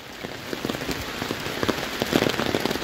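Steady rain falls outdoors, a close, continuous hiss of drops striking surfaces, with scattered louder patters throughout and no voices.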